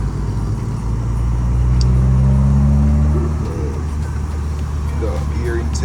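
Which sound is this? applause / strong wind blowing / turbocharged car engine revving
turbocharged car engine revving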